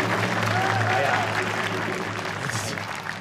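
A television variety show audience gives sustained, dense applause to welcome guest Ye Ailing, with the clapping filling the whole stretch over a low music bed and faint voices.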